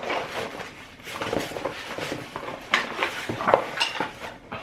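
Metal spatula handled and clinked against other utensils, a series of irregular light metallic clanks and taps close by, with quiet rustling between them.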